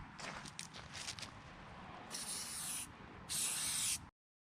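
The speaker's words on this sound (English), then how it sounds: "Go ahead and give it a coat with the rubberized paint." Rubberized paint is sprayed onto a Mazda fuel tank in two short, close hissing bursts from an aerosol can, following a few quieter handling rustles, then the clip cuts to silence.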